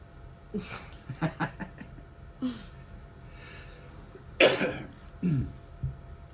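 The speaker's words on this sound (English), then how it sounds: "I apologize about my coughing" Several separate coughs, close by, with short quiet gaps between them; one harsher, louder burst comes near the end.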